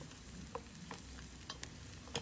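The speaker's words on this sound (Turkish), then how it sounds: "Havuçları da soğanlarla birlikte soteledim." Onions and carrots sizzle and crackle steadily in hot oil, with occasional sharp pops and the scrape of stirring, close and continuous.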